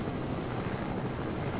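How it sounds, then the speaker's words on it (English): A Fortnite Chapter 2 Season 4 helicopter with a Wolverine wrap flies across the map, giving a steady, dense rotor and engine roar that is even and unbroken with no voices. "I'm taking the helicopter going from one side of the map to the other"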